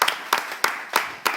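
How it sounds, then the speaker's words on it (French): Slow, evenly spaced claps ring out at a poetry slam championship event, five distinct loud claps in about a second and a half, with no voices over them. "On va également applaudir nos musiciens qui les ont accompagnés"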